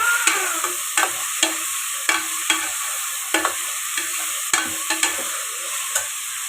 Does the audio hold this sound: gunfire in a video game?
no